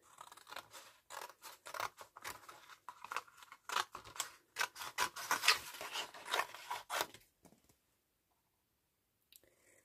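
Large scissors snip through paper in a quick run of crisp, rhythmic cuts, close and clear, stopping after several seconds with near silence after.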